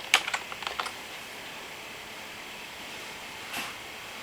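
Brief burst of computer keyboard typing, several quick close key clicks at the start followed by a faint quiet background and one soft click later.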